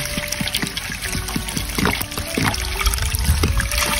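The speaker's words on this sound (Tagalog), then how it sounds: "Lagyan na natin ng tubig." Water pouring into a pot of native chicken with lemongrass, a splashing trickle with bubbly gurgles and small clinks running throughout, close and fairly loud, with no talk.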